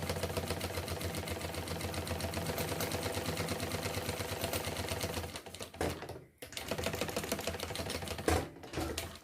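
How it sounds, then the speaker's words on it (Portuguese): A sewing machine stitches a retro university backpack along the seam where its zipper was sewn, running in a steady, loud mechanical rattle up close, then stopping briefly and starting again in shorter runs. "eu tô costurando o mesmo lugar onde eu costurei o meu zíper"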